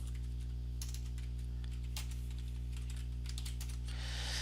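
Fingers typing a chmod command on a computer keyboard during a software installation, a quick run of light clicking keystrokes close by over a steady low electrical hum, with no one talking.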